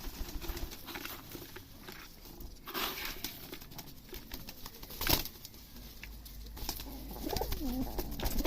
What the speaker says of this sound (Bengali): বাটির মধ্যে ঢুকে গেছে কবুতর